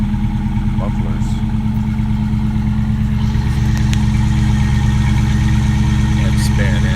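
Hemi V8 engine idling with the mufflers deleted, a loud, close, deep burbling rumble that stays steady for the whole stretch.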